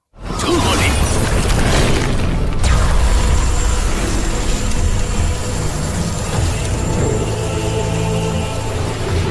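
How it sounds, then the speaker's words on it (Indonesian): Lightning blasts fired by a god in a fantasy film fight, heard as a sudden loud crackling burst at the start, then a dense, sustained roar of grinding, rattling and rumbling debris that stays loud throughout. "mengamuk dengan melepaskan tembakan-tembakan petirnya berharap Dewa Rulai keluar"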